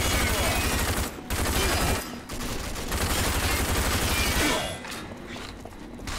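Dense bursts of rapid gunfire in the video game Rage, loud and close, with brief pauses between volleys and some shuffling movement.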